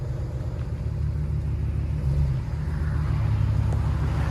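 Ram 1500 pickup with a 5.7L Hemi V8 and Flowmaster muffler idling close by, a steady deep exhaust rumble with a slight swell midway, heard alone.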